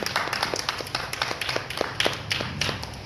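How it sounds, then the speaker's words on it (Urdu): A church congregation at a Sunday school service claps loudly and steadily for about three seconds. The sharp, dense hand claps carry on without a break, and no one speaks. "خدا کے جلال کے لیے زوردار تالیاں دیں"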